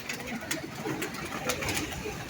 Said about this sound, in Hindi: ये देखें सारे कबूतर नीचे उतर रहे हैं।